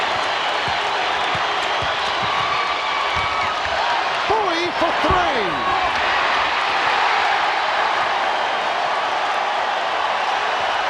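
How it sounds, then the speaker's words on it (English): A crowd at the Summit arena in Houston during the 1995 NBA Finals between the Rockets and Magic, roaring and cheering continuously as a loud broad wash, with a commentator talking over it and sneaker squeaks from the court. "And the crowd here at the Summit standing and cheering."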